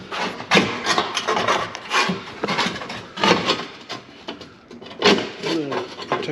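An exhaust pipe is cut beside the fuel tank of a Ford Fiesta ST 180 while a Scorpion resonated exhaust is fitted. Close, harsh rasping saw strokes come in repeated bursts with short pauses between them.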